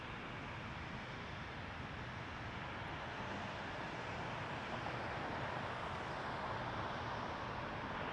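An Icelandair Boeing 737 MAX 9 departing toward Reykjavik from Toronto Pearson, a faint, distant, steady broadband engine roar that swells slightly as it goes on, with no talk.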